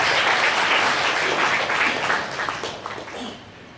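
A crowd bursts into loud, dense applause at a 2023 lifetime achievement award ceremony, the clapping steady at first and then thinning and fading over several seconds.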